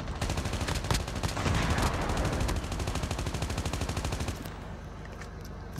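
Automatic gunfire rattles in rapid bursts in the video game COD Mobile, loud and close for several seconds before easing off near the end.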